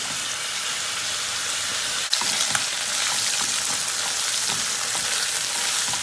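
Loud, steady sizzling of chicken pieces frying over high heat in a pan until caramelized, with a brief clatter of stirring partway through and no voices.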